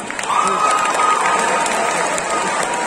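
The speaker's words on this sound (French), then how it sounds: "je vous demande d'applaudir bien fort Harry Skin Sylvestre" Loud, continuous crowd cheering and shouting fills a cosplay contest hall at Art To Play Nantes 2021, a dense roar with scattered clapping and a brief whistle-like tone near the start.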